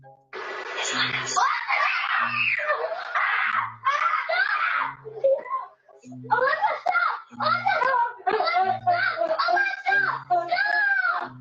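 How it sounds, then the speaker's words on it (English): Eight-year-old boys scream and yell in fright in a series of loud, high, repeated bursts with short gaps between them. Some of the outbursts sound like nervous laughter mixed into the shrieks. "The 8-year-old boys lose their damn minds and just begin to scream and yell for Alexa to stop"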